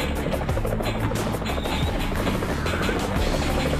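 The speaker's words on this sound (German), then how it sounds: "da kommt der nächste Hubschrauber" A helicopter in the flash video game Armio gives a continuous whirring, rotor-like drone with a dense, steady noisy texture and no voices.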